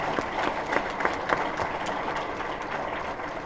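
Hotel ballroom audience at a government affairs forum clapping for the general manager and serving staff, a steady moderate wash of applause with a few sharper claps, heard at a slight distance.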